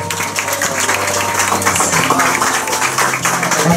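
A crowd at a quinceañera party applauds steadily and loudly for the birthday girl, a dense wash of clapping with music and voices mixed underneath.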